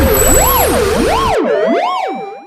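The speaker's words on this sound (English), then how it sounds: "I think the police car is gone now already." Police car siren wailing in a smooth rising-and-falling sweep, loud and close, repeating about every half second, then continuing alone and steady before cutting off sharply at the end.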